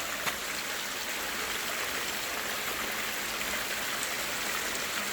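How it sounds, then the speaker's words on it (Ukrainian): The Syrets waterfall on the Syrets river gives a steady, broadband rushing roar of falling water that is even and continuous throughout, heard alone without voices. "Оце і є терецький водоспад."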